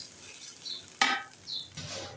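Ginger paste frying in a pan for korma pulao, a soft steady sizzle with a louder scrape of stirring near the middle and another near the end.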